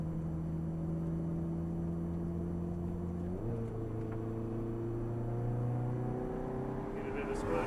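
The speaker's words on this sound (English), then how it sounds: "There's a car passing us." A car passes on the road outside a moving vehicle, its steady whirring engine drone shifting pitch midway, loud and close throughout with no clear speech.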